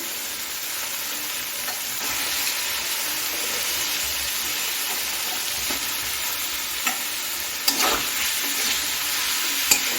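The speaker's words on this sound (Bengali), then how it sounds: "এখন কেটে রাখা বাঁধাকপিটা দিয়ে দিচ্ছি" Chopped cabbage sizzling and frying in hot oil on a high gas flame for pakora, a constant loud hiss with occasional stirring scrapes and sharper crackles near the end, no talking.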